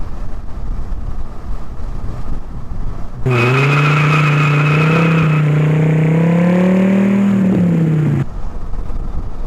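Dodge Viper RT/10 V10 engine revving hard on a ride, a loud sustained roar that rises and holds for about five seconds then drops away, with quieter road and cabin noise before and after.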